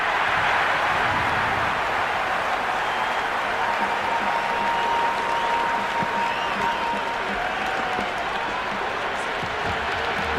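A raucous stadium crowd in the Cricket 26 video game roars in a steady, dense wash of cheering and applause, with faint commentary voices underneath throughout.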